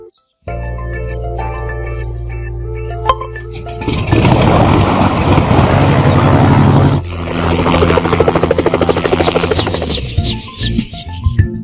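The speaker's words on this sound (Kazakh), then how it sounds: "Ұшақ." An aircraft engine starts up and roars loudly with a steady droning whine, then a pulsing propeller-like throb that tapers off.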